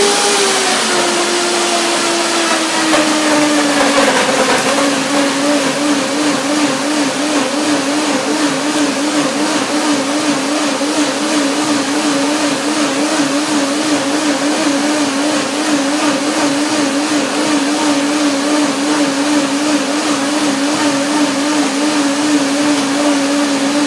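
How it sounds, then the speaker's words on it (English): A blender whirs loudly and steadily as it purées banana, pineapple and lemon into a smoothie, its motor pitch dropping slightly early on as the load settles, then holding a constant grinding drone throughout. "Just blend up a banana with a little pineapple and a lemon."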